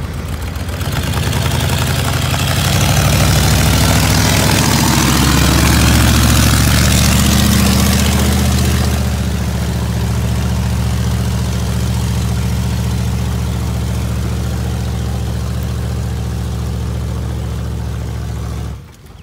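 A 6.5 two-wheel walk-behind tractor engine runs loud and close while working ground, a steady churning roar that shifts in pitch early on, then settles into a constant drone before cutting off at the end.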